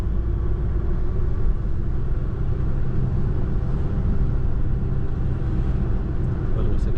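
A car descending the mountain road from Kothagiri to Mettupalayam in second gear at about 50 gives a continuous low engine and road rumble, steady and close from start to finish.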